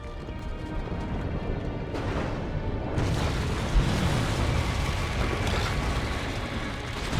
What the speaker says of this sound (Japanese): レーザーを受けた星にひびが入り、中から巨大なモンスターが現れました